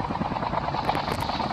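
Helicopter rotor chopping in a video game, a steady fairly quiet whirring drone throughout with no voices.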